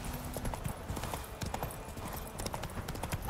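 Horse hooves clip-clopping in a steady rhythm while riding along a path in the video game The Witcher 3, close and moderately loud over faint ambient game sound.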